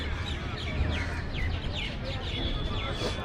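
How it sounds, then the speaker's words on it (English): Birds chirp and call repeatedly at Sukhna Lake in Chandigarh while people feed them, the quick tweets rising over a steady murmur of crowd noise and voices. "People were feeding the birds."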